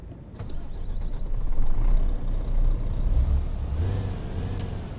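Low rumbling truck engine in American Truck Simulator, a Renault engine on a modded SISU truck, revving and idling, with a deep throbbing drone and a few short clicks and hisses, no talking.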